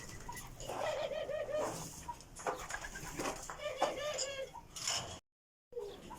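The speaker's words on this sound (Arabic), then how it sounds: "طبعا هذا طائر القبش." Qabash birds, pigeon-like, coo at their nest with soft repeated throaty calls in a steady run, fairly close, before a brief silence.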